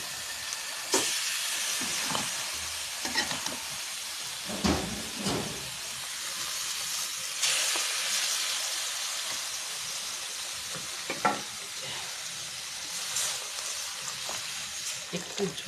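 A pan of fish, moved onto another burner after its spiced oil has been cooked down, hisses and steams steadily at a moderate level, with sharp utensil clatters and knocks scattered over the sizzle.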